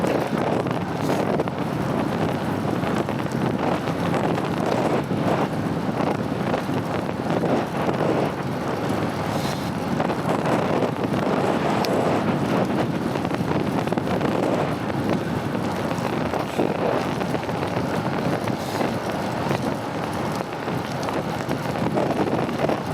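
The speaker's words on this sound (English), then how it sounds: "It has been so windy lately." Strong, continuous wind buffeting the microphone while cycling a fixed-gear bike in Fayetteville, Arkansas, a dense roar that holds steady throughout with no voices.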